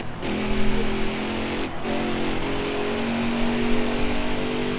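Racing truck engine in NASCAR Heat 4, revving hard with a buzzing mid-pitched drone, a brief lift-off dip as it shifts, then climbing again steadily alongside a rushing track noise.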